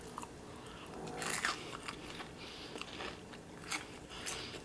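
Someone bites into a crunchy fried cornbread fritter up close, a few sharp crunches followed by quieter chewing and scattered crackles, with no talking.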